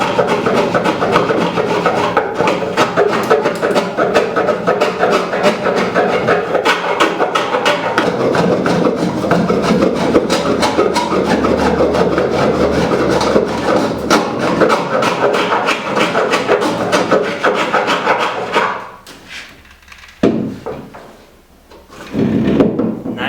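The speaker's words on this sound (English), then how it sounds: "So we're shaving into the levels of ply, but nobody will see that." Hand rasping into the layered edge of plywood, a loud, continuous scraping and rubbing that runs steadily before stopping abruptly near the end with a few brief scrapes after.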